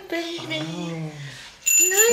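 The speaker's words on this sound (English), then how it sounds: "ring the bell. Ring the bell." A small bell, likely a toy or bicycle-style bell, gives a sustained tonal ring with bright high partials near the end, heard beside a parent coaxing a child and a young voice singing out in play.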